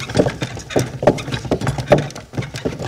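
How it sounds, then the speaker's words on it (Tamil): A bullock cart rolls along with rhythmic, close hoof clops and wooden knocking, a steady repeating beat about twice a second with no talk. "மாட்டு வண்டி. மாட்டு வண்டி."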